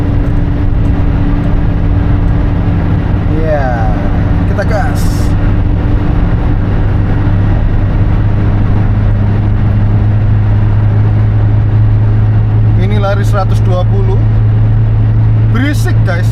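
Isuzu Panther engine droning loudly inside the cabin while speeding on a toll road, a steady rumble and road roar throughout, with a person talking over it at times.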